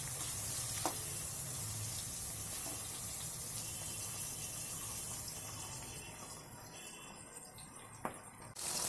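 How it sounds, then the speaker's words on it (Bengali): Pumpkin and pointed gourd slices frying in a pan give a steady, close sizzle that eases off toward the end, with a couple of sharp clicks. "এই দেখো আমার এখানে মিষ্টি কুমড়া আর পটল ভাজা হচ্ছে"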